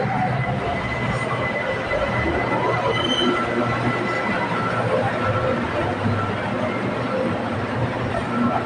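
A BTS Skytrain Silom line train runs loudly at the Saphan Taksin station platform in Bangkok, with a steady rolling rumble and wheel squeal, while a voice talks over it.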